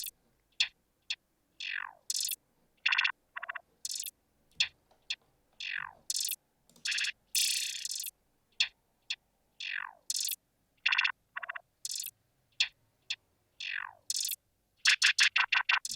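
Short trap hi-hat rolls with spacey laser-like zaps fire in quick bursts and gaps, falling-pitch sweeps alternating with crisp ticking clusters in a sparse repeating pattern.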